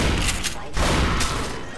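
Heavy shotgun blasts from Half-Life 2 pound almost continuously at close range, loud and crowded together with a couple of sharper cracks standing out, amid busy game noise.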